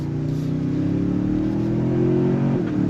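A 2025 Toyota Sequoia Capstone SUV accelerates hard, its engine note rising steadily and loud from inside the cabin for about three seconds, with no talk over it.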